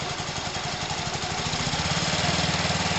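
A small engine runs steadily close by, its rough pulsing idle lifting in pitch as it is revved a little, loud and continuous with no talk over it.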